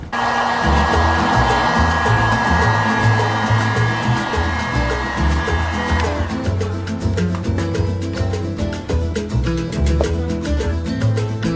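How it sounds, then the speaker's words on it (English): A heat gun blows steadily while heating and stretching a shrunken RV window molding seal, a loud, close, continuous whooshing hum that shifts tone partway through with faint rhythmic ticking underneath. "I took this heat gun and heated it up and stretched it back over because these things have a tendency of shrinking over time"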